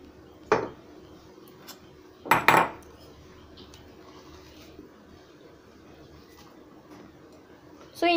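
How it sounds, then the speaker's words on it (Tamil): A utensil clinks and scrapes against a bowl as ground lentil batter for paruppu vadai is transferred: two distinct metallic knocks a couple of seconds apart, then another at the end, over a quiet kitchen background. "நம்ம இப்போ ஒரு பவுலில் ட்ரான்ஸ்ஃபர் பண்ணிக்கலாம்."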